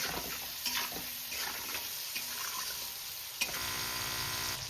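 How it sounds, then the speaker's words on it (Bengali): Tomatoes fry in a pan with a soft, steady sizzle and occasional stirring clicks, close but fairly quiet, with no voices. "দেখো টমেটোটা কিন্তু ভাজা হয়ে গেছে।"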